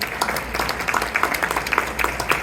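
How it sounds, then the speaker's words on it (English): A banquet hall audience at an annual dinner claps for the organizing committee, a steady patter of many hands at moderate level that holds evenly for a couple of seconds. "So give a round of applause to our dinner committee."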